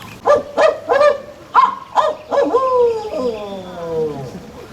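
A person's voice imitates a barred owl's hooting: a rhythmic series of deep, throaty hoots that ends in a long, drawn-out call sliding downward.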